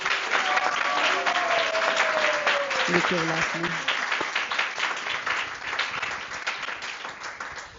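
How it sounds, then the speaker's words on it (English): An audience at an evening spiritual pilgrimage program gives a loud, sustained round of applause, with a speaker's voice briefly heard over the clapping before it tapers slightly. "So let's give a round of applause to"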